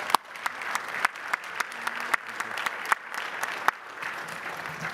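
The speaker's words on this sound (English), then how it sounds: "how about a round of applause for our panelists today?" A conference audience applauds the panelists at the end of a security panel, a thinner, scattered clapping with distinct individual claps standing out, moderately quiet in a hall.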